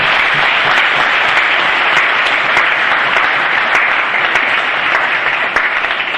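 Steady, loud applause from a church audience fills the space without pause, with dense clapping and no break or talking over it.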